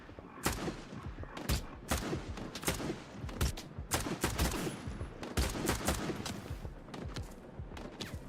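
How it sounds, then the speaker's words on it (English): Rapid pistol shots fired in the video game S.T.A.L.K.E.R. 2, a dense run of sharp, loud cracks at an irregular pace, some overlapping, across the whole stretch. "I actually hit him with a pistol round there."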